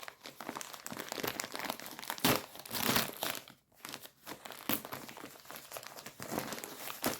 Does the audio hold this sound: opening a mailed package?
yes